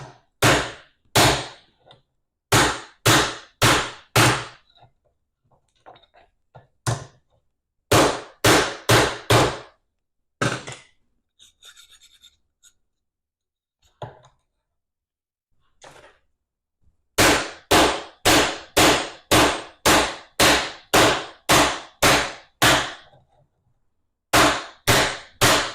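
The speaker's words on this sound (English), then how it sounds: "Just take a hammer to it and just kind of rewrap it around this 1/2-inch pipe to" Sharp metal hammer blows reshaping a bent clamp around a half-inch pipe, delivered in quick bursts of four to eight strikes separated by short pauses, loud and close, with faint handling noises in the gaps.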